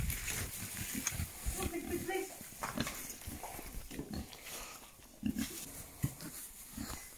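Farm pigs grunt and snuffle up close while they are offered hops and apple, low rough grunts scattered through the clip under people talking.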